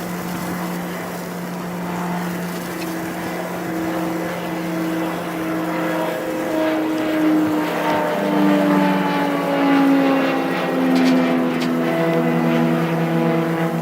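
A pressure washer sprays water while cleaning a roof from the top down, giving a steady, loud engine drone and rushing spray that shifts slightly in pitch throughout.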